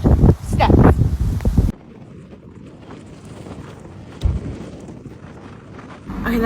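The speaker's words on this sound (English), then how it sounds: "Okay, that wind was hella crazy." Strong wind buffets the microphone on an outdoor walk, a loud rumbling roar that drops back to a steadier, softer gusting noise, with no voice heard.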